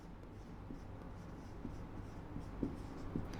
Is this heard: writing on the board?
yes